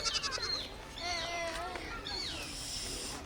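A goat bleats several times in wavering, nasal calls, moderately loud and close, in a Maithili village comedy sketch about a goat thief.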